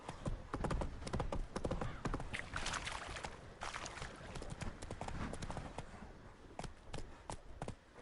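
A horse gallops in The Witcher 3, with dense, rapid hoofbeats in a steady clip-clop rhythm, loud and close throughout.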